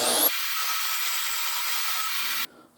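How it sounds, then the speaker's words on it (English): A portable bandsaw switched on, running with a steady loud whirring buzz for about two seconds before cutting off, close and without talk. "This is super handy to mount your portable bandsaw to. A little switch down here to turn it on."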